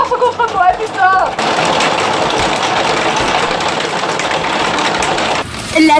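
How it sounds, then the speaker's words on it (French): Dense, loud hail hammers continuously on a skylight window, a steady broadband rattle that starts abruptly after a moment of speech and drowns everything for about four seconds before talk returns at the end. "Bah, c'est mal barré, il y a de la grêle."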